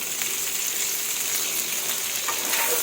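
Shrimp stir-fried with garlic in a hot pan, a steady, dense sizzle and crackle of frying with faint scraping from stirring, close and continuous throughout.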